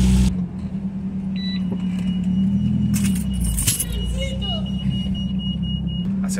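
A Suzuki Vitara running on CNG idles nearby with a low, constant engine drone, joined by brief jingling and clicking sounds partway through.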